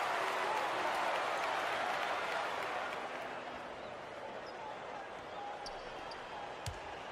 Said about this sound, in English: This crowd couldn't be any happier. Just listen to the people in this building.